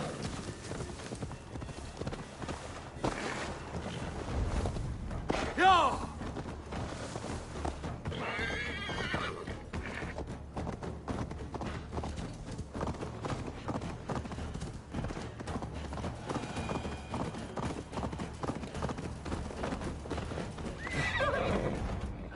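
A horse in the video game Assassin's Creed Valhalla gallops with continuous rapid hoofbeats, giving several neighs and whinnies over a busy game soundscape.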